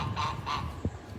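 Domestic geese on a small homestead give two nasal honks in quick succession, fairly close and clear, with quiet background between calls.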